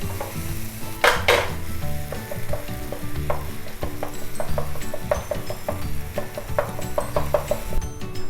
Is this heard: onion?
yes